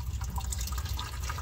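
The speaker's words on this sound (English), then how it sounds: "All right, I'll drain that in the bucket." Water draining out of a disconnected fuel line on a 1977 Ford F600 truck into a bucket, a continuous trickling and dripping stream heard close and alone.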